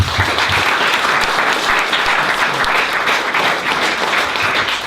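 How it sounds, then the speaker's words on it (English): Sustained audience round of applause at a public program event, dense and steady clapping throughout at full loudness with no pauses. "Let's give a big round of applause."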